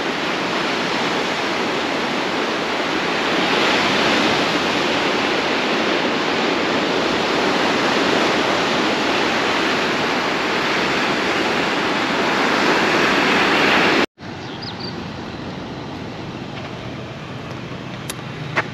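Ocean waves roll onto the Portuguese coast at Apúlia, a steady, loud, broadband surf roar that cuts abruptly to a softer, hissing wash near the end.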